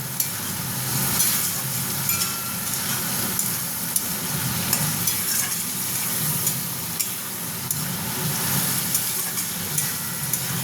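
Prawns frying in a pan, their water cooking off, producing a continuous close sizzle with light crackling and occasional stirring clicks, with no speech.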